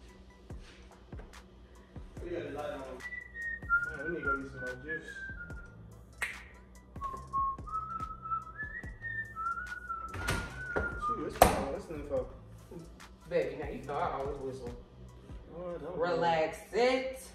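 Someone whistles a short, rising-and-falling tune in a casual indoor setting, the melodic notes coming in several brief phrases between bursts of conversation and occasional taps and knocks.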